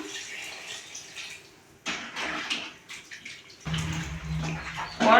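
Water is poured from close by into a pot of country chicken curry. Short splashing bursts build to a steady, louder pour in the kitchen.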